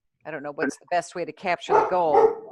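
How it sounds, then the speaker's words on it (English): Dog barking and yipping at home during an online meeting, several quick close barks mixed with a person talking. "Oh, that's my dog."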